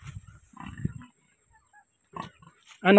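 Pigs on a farm grunt in short, low, rough bursts at close range, separated by near-silent gaps, with a louder grunting burst at the very end.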